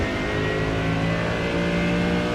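Race car engine held at full throttle in a sim racing game, a loud, steady high-revving drone with a sustained harmonic whine filling the whole stretch without a break.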